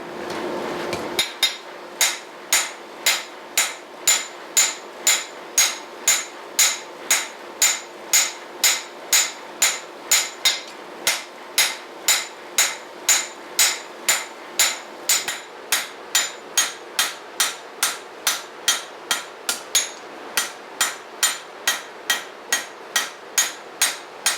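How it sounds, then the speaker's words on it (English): Steel blade being forged and beveled with a hammer, steady rhythmic metallic strikes, roughly one or two per second, loud and close, continuing alone for the whole stretch with no talking. "Next thing we need to do is start beveling the blade to make it wider."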